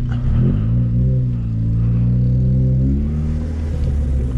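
Chevrolet Celta engine with a modified exhaust revving hard, a loud, deep, steady rumble with rising and falling pitch, close by and with no talking over it.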